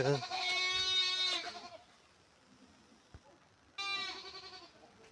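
Two loud goat bleats close by, one at the start and another near the end, separated by a quiet outdoor pause in a winter vegetable garden.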